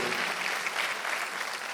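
A church congregation claps together during a Korean Sunday worship service, a steady dense wash of applause lasting the whole moment with no voices over it.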